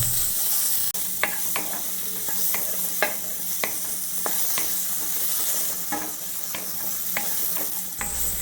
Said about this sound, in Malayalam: അതും കൂടി നമുക്ക് ഇട്ട് കൊടുത്ത് നന്നായിട്ട് ഇത് ഒന്ന് വഴറ്റിയെടുക്കാം.